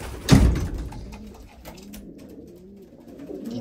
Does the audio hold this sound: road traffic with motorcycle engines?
no